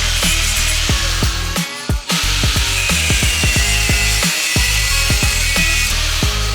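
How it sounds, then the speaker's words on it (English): A die grinder cuts off alignment pins on a Mercedes Sprinter seat base, giving a loud, steady, close-up high whine with a buzzing hum underneath, interrupted by one brief dip. "now we're just going to take the die grinder and take just that forward piece off"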